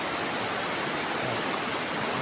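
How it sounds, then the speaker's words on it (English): A mountain brook in the Smoky Mountains runs over moss-covered rocks, making a steady, even rushing hiss with no breaks, heard alone and fairly close. "look how nice the brook is"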